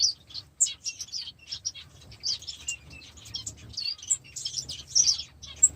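A pair of spice finches in an aviary give quick, high chirps and tweets, repeating in irregular clusters and fairly close, over a faint low background hum.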